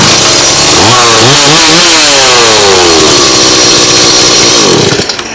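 A repaired STIHL 180 chainsaw with a replaced cylinder and carburetor runs loud and close, its engine revving up and down in sweeping rises before easing off at the end.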